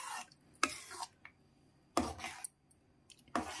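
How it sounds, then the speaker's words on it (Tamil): Sweet dish with saffron stirred in a pan, a spoon scraping and clinking against the metal in a few separate bursts with quiet gaps between. "இப்போது நான் இதை நல்லா கிண்டிக்கிட்டே இருக்கிறேன்."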